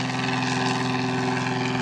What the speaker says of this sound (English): Got an airplane taking off in the river.